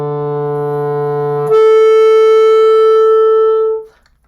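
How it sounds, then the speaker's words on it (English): A clarinet holds a low note, then slurs up to a sustained second-register B. The tone is clear and steady, played alone with no talking. "And we are going to slur up to a B."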